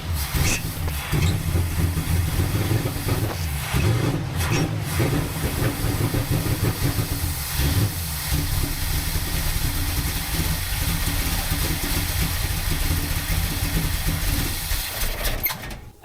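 A Ford F250 with a freshly rebuilt carburetor runs steadily at idle, a continuous loud, rough engine rumble with hiss lasting throughout, no voices present.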